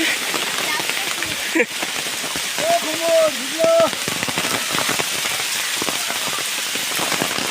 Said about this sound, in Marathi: पावसानं वाट लावला आमच्या